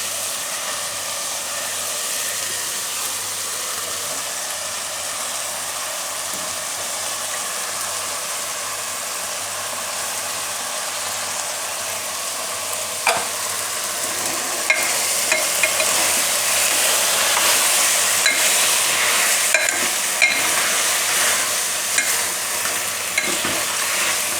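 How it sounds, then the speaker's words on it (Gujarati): Eggplant added to a hot pan for a Gujarati chori ringna shaak, steadily sizzling and frying with bright hiss, growing a bit louder partway through, with intermittent scraping clicks of stirring and no talking. "હવે રીંગણા નાખી દઈશું આપણે"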